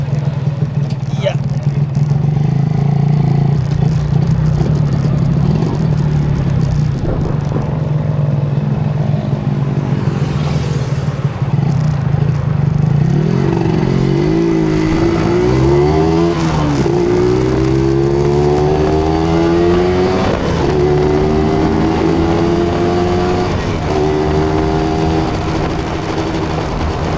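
A Yamaha 125ZR two-stroke motorcycle rides along, its engine droning steadily and loudly, then revving repeatedly in rising and falling sweeps through the second half. Talk runs over it.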